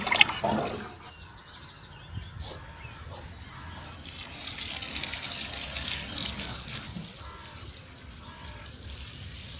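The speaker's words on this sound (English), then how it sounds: "we also have a rain barrel that collects water, so we can water the plants in a more economical way" Water from a rain barrel splashes and trickles steadily as it is poured onto garden plants, close and continuous for several seconds with no talk.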